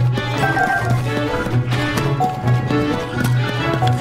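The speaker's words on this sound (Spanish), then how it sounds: "¡Un caballo esquelético!" A skeleton horse's hooves in Zelda: Tears of the Kingdom clop in a steady, rhythmic gallop, loud and close, layered over the game's continuous music.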